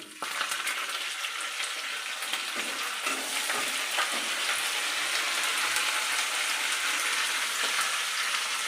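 Tempering spices with dried red chillies and coarsely crushed garlic frying in oil for Telangana-style gongura pickle, a loud continuous crackling sizzle heard up close throughout, with no talking.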